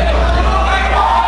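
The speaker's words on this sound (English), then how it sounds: "And the Gator Chomp goes on in the crowd." A volleyball crowd roars through the Gator Chomp in an arena, a dense, loud wash of massed voices that holds steady for a moment.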